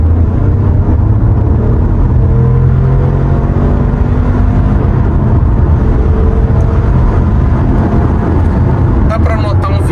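A Volvo XC40 hybrid with 262 hp combined accelerates hard from about 60 toward 120 km/h, heard from inside as a loud, steady engine and road roar with rising whine.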